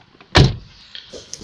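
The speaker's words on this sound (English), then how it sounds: "Let's close the door." A Citroen BX car door shuts once with a solid, close thud, followed by faint clicks and quiet rattles; no voices.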